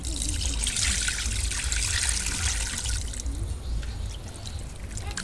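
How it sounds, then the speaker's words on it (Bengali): Water is poured into marinated beef in a cooking pot, making a steady, close splashing and trickling that runs continuously and eases off slightly toward the end. "আমি এর ভিতরে একটু পানি দিয়ে নেব"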